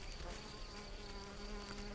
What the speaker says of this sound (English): It's no easy task for a small bee like the red-tailed mason.